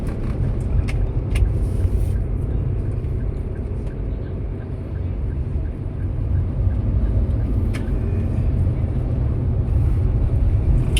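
A Toyota Avanza fitted with an auto clutch cruises in fourth gear, its engine and road noise forming a loud, steady low rumble from inside the cabin, with a few faint clicks over the drone.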